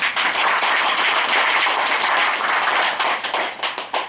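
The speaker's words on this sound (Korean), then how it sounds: "지금부터 박수 한번 치고 하겠습니다" People at a committee meeting clap together in a loud, close, dense burst that holds steady, then thins into a few scattered individual claps at the end.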